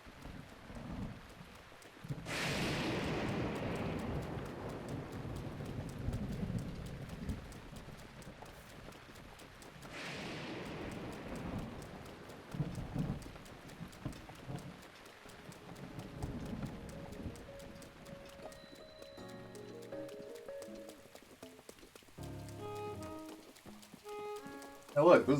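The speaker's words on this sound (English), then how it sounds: "Get out of this miserable rain!" Steady in-game rain hisses through a soft thunderstorm in The Legend of Zelda: Breath of the Wild, with faint thunder and clip-clopping horse hooves, while a person talks over it.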